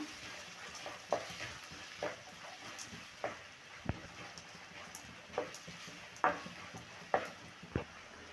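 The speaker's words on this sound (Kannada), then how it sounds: "ಈರುಳ್ಳಿ ಗೋಲ್ಡನ್ ಬ್ರೌನ್ ಕಲರ್ ಬರೋವರೆಗೂ ಫ್ರೈ ಮಾಡೋಣ." Onions frying in a pan until golden brown for a drumstick-flower palya, heard as a quiet, low sizzle with about a dozen sharp spatula scrapes and taps at a steady stirring rhythm, no voices.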